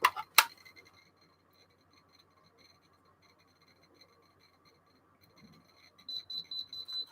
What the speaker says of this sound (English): I'll turn the alarm off now because we don't want that constantly going off